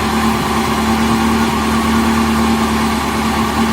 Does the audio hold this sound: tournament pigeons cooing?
no